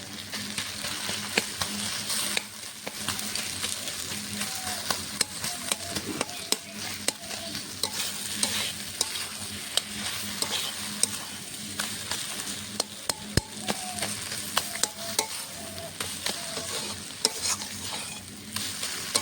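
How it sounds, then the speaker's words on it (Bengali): Fried taki fish is stirred into bathua greens in a hot pan, giving a constant close sizzle broken by repeated scraping and clattering stirring strokes throughout, with no speech. "ভেজে রাখা ছাটি মাছগুলো এখন দিয়ে দেবো শাকে।"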